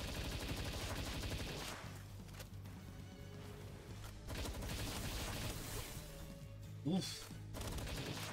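A machine gun in the video game PalWorld fires continuously in long, rapid bursts, with a brief exclamation from a player over the dense stream of shots.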